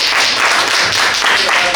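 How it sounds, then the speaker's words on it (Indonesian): Audience applause for a presenting team in a classroom or lecture session, a brief burst of many hands clapping together at close range, dense and fairly loud. "Aplaus dulu untuk tim kedua."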